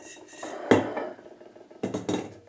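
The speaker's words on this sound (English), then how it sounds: "we'll begin by taking the bowl off and the beater" Metal KitchenAid stand mixer bowl and beater being removed, giving two clanking, scraping bursts of metal on metal, close and fairly loud with a quiet pause between them and no talk.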